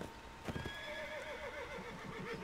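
A horse in the pirate-era video game Blood & Gold: Caribbean gives a long, wavering neigh after a few sharp hoof clops, set against a steady, dense game ambience.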